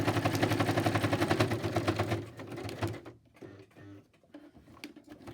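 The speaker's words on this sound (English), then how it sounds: "here I might switch to zigzag so I catch more of the lace and it sort of stays put" Sewing machine zigzag stitching lace onto paper: a fast, even run of needle clatter for about two seconds, then slowing and stopping, followed by a few scattered faint clicks and handling sounds.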